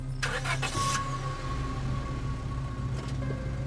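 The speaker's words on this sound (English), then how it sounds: "The cops usher you and Stella into the back of their squad car" A police squad car engine in the Scarlet Hollow video game starts with a brief cranking burst, then settles into a steady, loud, low idle hum that continues throughout.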